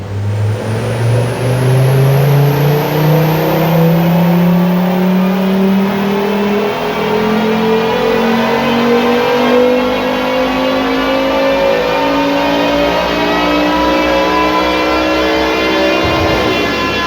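A turbocharged 5-cylinder engine swapped into a Toyota MR2 MR-S revs hard on a dyno, its loud tone climbing steadily through a long pull before dropping off sharply at the end.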